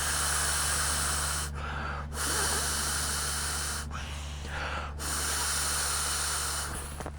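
Steady breathy hiss of air being blown by mouth into the valve of an inflatable sleeping mat, loud and close, in long continuous puffs broken by two short pauses for breath.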